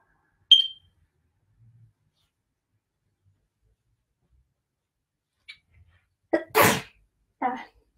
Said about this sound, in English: The sneeze is me having allergies